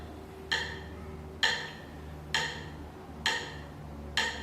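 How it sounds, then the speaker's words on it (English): A metronome set to 66 beats per minute ticks five times at an even, slow pace, each click sharp and close against a quiet background hiss, with no voices. "So it is a very important tool, a metronome, to be able to hold your laya."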